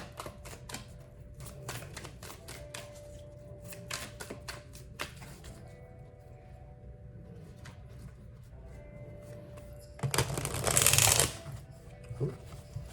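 Tarot cards are shuffled close up in a quick run of crisp riffling taps and slides, with a louder, denser burst of flicking near the end and no talking.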